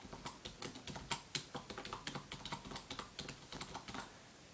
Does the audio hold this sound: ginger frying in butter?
no